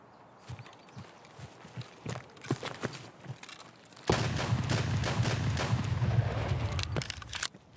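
Sharp shots ring out from an Escape from Tarkov firefight: a few scattered reports early, then a loud sustained volley that fills the second half.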